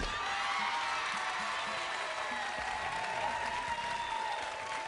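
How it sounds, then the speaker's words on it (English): A studio audience at a reality show claps in a sustained, even ovation, with some cheering and whoops mixed into the steady wash of hands. "Round of applause for those nice people"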